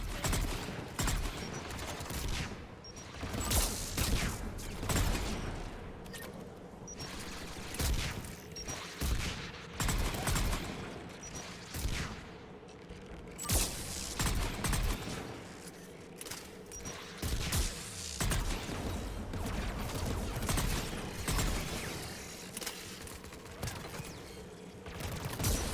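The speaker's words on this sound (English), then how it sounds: "AA guns ahead of us." Anti-aircraft gunfire in Mass Effect 3, heavy repeated bursts and booms firing continuously in uneven clusters over nearly half a minute, loud and dense with battle noise.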